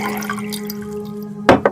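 Water poured for a guest: two quick splashing bursts, close and fairly loud, break in near the end over a steady electrical hum.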